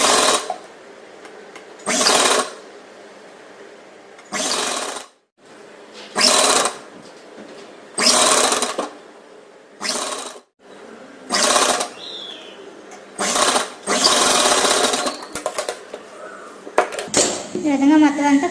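A sewing machine stitches frills made from old saree fabric for a lehenga. It runs in about nine short bursts of rapid whirring, separated by quiet pauses and small handling noises.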